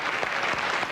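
Studio audience applauding a comedian on a 1998 French television show, a steady wash of clapping filling the whole moment without any voices on top.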